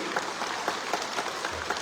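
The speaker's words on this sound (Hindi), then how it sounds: "ये करने से भी ताली होता है, ये करने से भी आवाज आता है।" Hands clap at a spoken gathering in Tripura, a dense patter of applause with regular, slightly stronger beats pulsing through it, continuous and fairly close.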